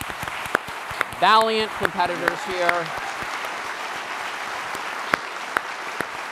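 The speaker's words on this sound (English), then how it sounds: "A huge round of applause." Audience applause for departing competitors at a national geography quiz final, steady clapping throughout with sharp individual claps standing out, while a presenter speaks briefly over it.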